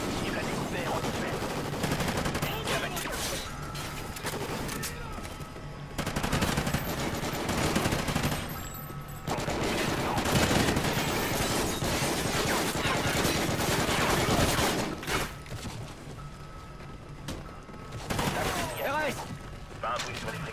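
Sustained gunfire from the Call of Duty: Ghosts video game in a weapons factory level, dense bursts of automatic fire and shots running throughout, loud and continuous with brief lulls, with voices mixed in.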